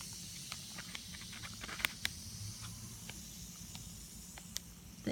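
A chemical reaction fizzes inside a sealed lab bag, giving a faint, continuous hiss scattered with tiny crackling pops and bubbling ticks, quiet and close.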